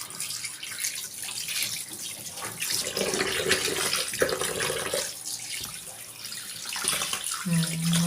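Food is washed under a running kitchen tap, with water splashing and gushing steadily, changing as it hits the food, and a brief hum near the end.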